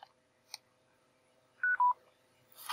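A Skullcandy PLYR2 gaming controller gives two quick electronic beeps, the second slightly lower than the first, as it is switched off and back on. The beeps are clear and moderately loud in a quiet room, with a faint click before them.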